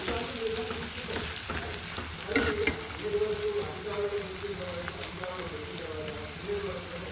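Garlic fries for a bitter gourd curry in a pan with a dense, rain-like sizzle while a utensil stirs, giving a few louder scrapes, with a voice faintly present underneath.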